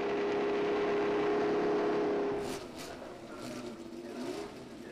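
A Formula 1 car engine at Monza sounds for about two and a half seconds as a high, steady whine, then fades into a quieter, noisier stretch with faint higher passes.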